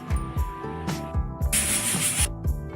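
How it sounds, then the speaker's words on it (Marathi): A knife slices through steamed alu vadi rolls on a cutting board, giving repeated rhythmic chops with a longer scraping hiss midway, close and clear with no talking. "ती सुद्धा मी अशा प्रकारे आता कट करून घेते"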